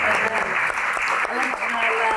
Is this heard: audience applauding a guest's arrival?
yes